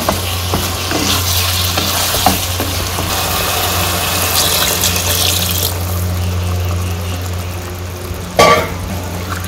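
Eggs fry in curry in a pan in village-style home cooking, a constant loud sizzle with occasional stirring clatters and a sharper burst near the end, over a steady background hum.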